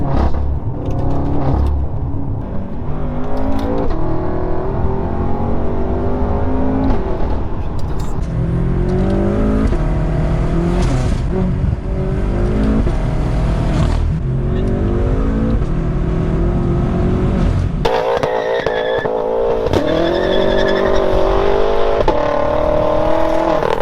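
A 700 hp BMW M5 drifting through corners, its engine revving up and down loudly with small exhaust crackles on lift-off, a continuous close roar with a shift in tone near the end.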